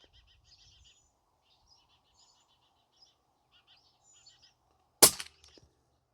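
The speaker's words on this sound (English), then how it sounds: "One more shot." An Umarex Notos air rifle fitted with a moderator fires once, a single sharp muffled crack preceded by several seconds of faint outdoor birdsong, with a brief rattle trailing after the shot.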